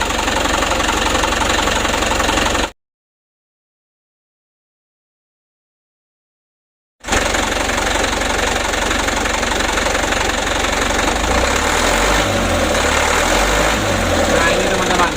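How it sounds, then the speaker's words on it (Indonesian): Diesel engine with a repaired Bosch injection pump revving from low to high throttle, a loud, steady knocking drone close by that cuts out for a few seconds of silence and then resumes with a rising tone. "Dari mulai awal gas sampai tinggi ini anteng."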